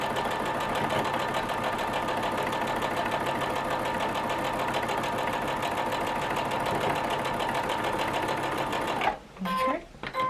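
A sewing machine runs steadily while stitching a log cabin quilt block with a quarter-inch seam, a continuous close mechanical whir that stops abruptly near the end with a few brief bursts.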